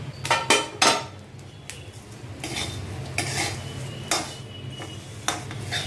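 Flattened rice poha tipped into a pan for chivda namkeen, heard as a run of dry rattles and metal spoon scrapes against the pan, close and clear with no talking.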